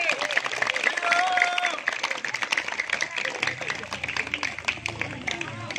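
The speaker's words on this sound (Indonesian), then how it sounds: "Tepuk tangan." Audience clapping at a neighborhood Indonesian Independence Day celebration, a scattered round of hand claps mixed with crowd chatter and voices, fairly close and continuing throughout.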